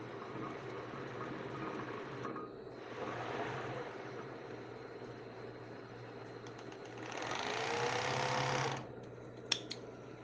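A sewing machine stitches elastic onto a bra, running in several bursts of steady mechanical whirring with short pauses between, close and fairly quiet.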